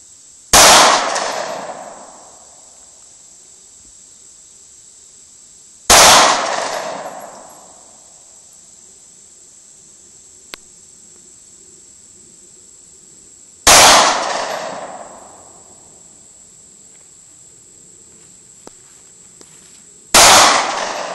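Single 9mm shots from a pair of Taurus PT111 G2 pistols, four loud sharp cracks spaced several seconds apart, each trailing off in a brief ringing echo, with quiet gaps between.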